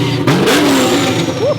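A Chevrolet C8 Corvette engine revs hard up close at a car meet, a loud rising and falling roar with a swooping pitch, with voices talking underneath.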